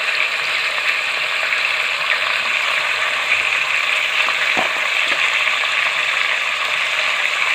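Chopped tomatoes and ginger-garlic paste frying in a pan for mutton liver masala, a steady loud hiss and crackle of sizzling with a couple of faint clinks from stirring, no voices.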